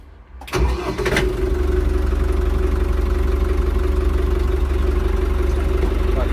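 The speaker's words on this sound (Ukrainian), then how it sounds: "ну ще заведемо, послухаємо мотор," A Lovol 504 Pro tractor's diesel engine cranks briefly and catches, then settles into a steady, loud, low rumbling idle that continues to the end.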